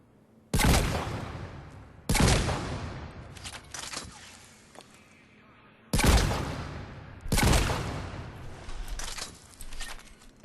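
The Wraith shotgun in Mass Effect 3 fires at short range: four loud, sharp blasts, each trailing into a decaying roar, arrive in two pairs with pauses between, plus a softer mechanical clack in the middle.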